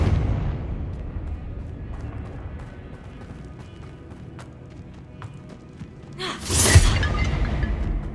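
A Confringo blasting spell in the video game Hogwarts Legacy goes off as a single sharp, bright explosion near the end, over a low rumbling game background of footsteps and ambience.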